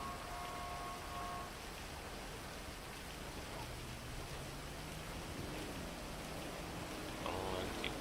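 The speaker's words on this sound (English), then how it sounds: "Now it's raining great." Rain falls in the video game GTA V Online, a steady, soft hiss of drops that holds evenly throughout at low volume, with a few faint tones from the game underneath.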